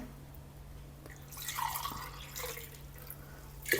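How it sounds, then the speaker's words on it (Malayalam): Water splashes and trickles into a pot of rice for biryani in a short burst, with drips and a faint steady hum in the background; no one speaks. "ഇനി ബാക്കി നമുക്ക് നോർമൽ വെള്ളം ഒഴിച്ചു കൊടുക്കാം"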